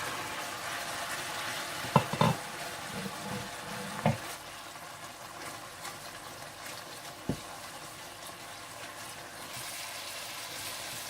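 Half a cup of water poured into onions frying in a pot for chicken pulao brings a soft, steady sizzle and bubbling, with a few sharp clinks of a spoon stirring, all fairly quiet.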